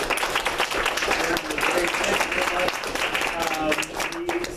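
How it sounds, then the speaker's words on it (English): An audience claps for a guest speaker after a talk on gun rights, a sustained patter of applause with talking going on underneath. "Round of applause for our guest speaker."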